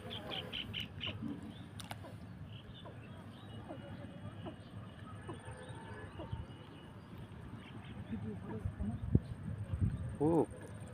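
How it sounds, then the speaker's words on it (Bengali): An unfamiliar duck-like bird gives scattered quacking calls, with a clearer burst of calls near the end, heard over a constant noisy outdoor background. "একদম নতুন একটা পাখির আওয়াজ আপনাদেরকে শোনানোর চেষ্টা করব।"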